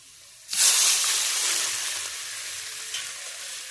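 Water poured into a pan of frying spice paste made with green chillies sets off a sudden, loud burst of sizzling that holds steady and slowly fades, with no talking.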